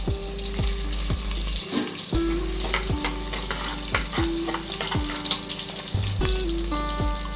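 Ginger tossed into hot oil for venpongal sizzles steadily, with repeated scraping stirs and clinks of a spoon against the pan and no talk.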